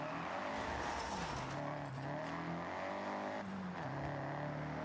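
A Ford Cosworth car drives through trees in the racing game Forza Horizon 6, its engine note rising and dropping through gear changes with a loud, steady roar and brief tire squeal.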